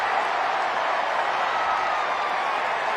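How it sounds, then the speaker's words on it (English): A stadium crowd at a North Carolina versus NC State college football game roars after a touchdown, a dense, steady wall of cheering and clapping that holds at an even level throughout. "This crowd just got juiced after a touchdown"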